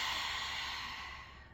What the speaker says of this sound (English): So you breathe in.